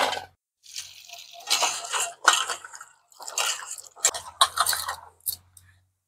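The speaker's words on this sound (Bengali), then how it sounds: "এই সবার প্রথমে আমি বড়িগুলো ধুয়ে নিব" Jujube fruits are washed by hand in water, making intermittent close splashes, squishes and drips in short bursts separated by brief quiet gaps.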